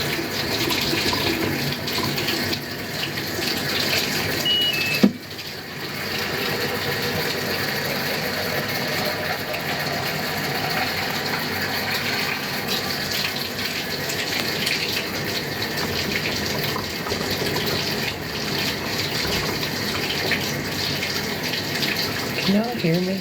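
Water pours steadily from a tap in a continuous broadband rush lasting the whole stretch, fairly close and loud, with a brief knock partway through and some faint background voice.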